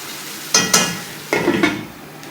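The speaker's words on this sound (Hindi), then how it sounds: "2 मिनट्स तक आप चमचा चलाएं, 2 to 3 मिनट्स।" A spoon stirs Karachi street-style kata kat in a wok over a medium-high flame, making four clattering metallic scrapes in two pairs over a soft sizzling background, close and fairly loud.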